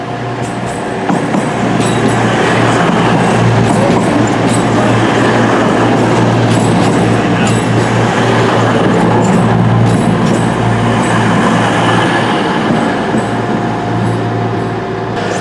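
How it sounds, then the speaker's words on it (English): A four-coach passenger train rumbles steadily close by, with a constant low engine drone and rattling carriage noise throughout. "So this is a four coach train"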